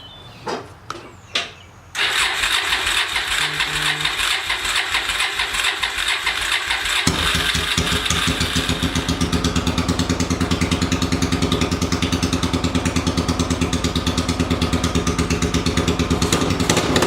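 An 800cc pulling tractor engine cranks with a few short bursts, catches after about two seconds and settles into a loud, steady, close-up run whose rumble deepens partway through.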